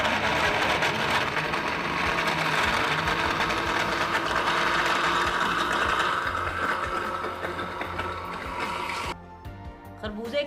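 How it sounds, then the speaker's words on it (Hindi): A kitchen grinder whirs loudly as it blends melon lassi with ice cubes, a dense steady motor drone with rattling that stops abruptly near the end, leaving a quieter tail. "अब इसे ग्राइंड कर लेंगे।"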